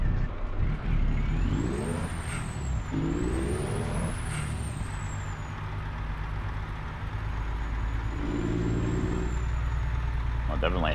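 A Freightliner Argosy truck engine in American Truck Simulator rumbles steadily and loudly with a deep, continuous drone, broken by shifting pitch sweeps and occasional high hissing bursts.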